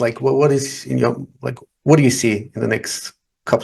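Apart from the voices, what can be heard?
No everyday noise stands out behind the speech.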